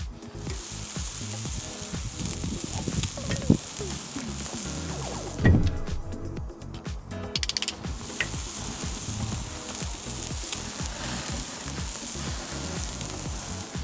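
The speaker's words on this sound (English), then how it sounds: "Now I'm just looking to get a nice sear, a really good char on this because I want that grilly flavor." Marinated steak sears on a hot grill with a continuous loud sizzle and crackle, briefly dipping midway before resuming.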